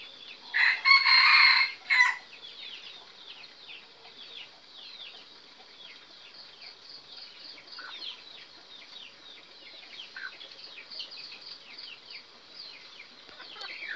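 Rooster crowing once, loud and close at the start, followed by a long stretch of faint chirping and rustling ambience.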